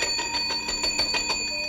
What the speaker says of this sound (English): Is that the night bell?